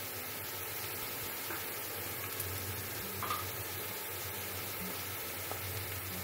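Whole garam masala dropped into a pan of softened fried onions sizzles with a steady, close frying hiss, punctuated by faint stirring clicks.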